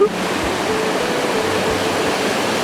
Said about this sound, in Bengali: তবে আমরা কিন্তু ঝর্নার জায়গাতেই দাঁড়িয়ে আছি